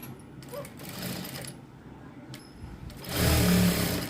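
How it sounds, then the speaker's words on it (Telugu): Sewing machine stitching a straight seam in blouse fabric, a steady close mechanical whir with faint clicks, rising into a louder, faster run near the end. "ఈ విధంగా స్ట్రైట్గా కుట్టు అనేది వేసేసుకోవాలి"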